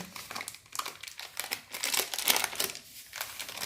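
A plastic semolina packet crinkles and rustles in close, irregular bursts as it is handled and cut open, loud and dry with no talk over it.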